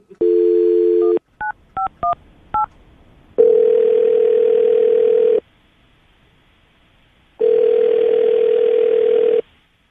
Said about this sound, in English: I'm going to dial his phone number right now, get him on the phone